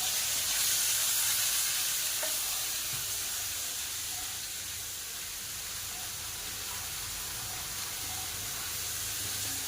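A mixture with green chili sizzles and fries steadily in a hot pan, a continuous bright hiss with occasional soft scrapes from stirring, close and alone.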